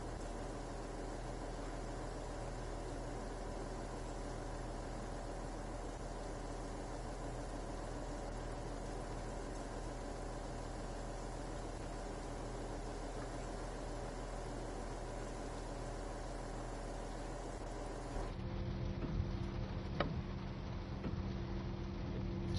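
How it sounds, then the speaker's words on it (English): A train engine drones at full revs inside a cab in Train Sim World 3, a loud, steady, unbroken roar that shifts to a slightly different tone near the end, with a faint click. "Sounds as though the engine's at full revs in here."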